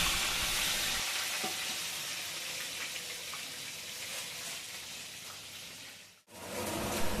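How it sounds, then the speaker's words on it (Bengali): Eggplant slices fry in hot oil, a steady soft sizzle and crackle that runs on evenly and fairly quietly, with a brief dip near the end. "করে বেগুন ভাজা ভেজে নেব"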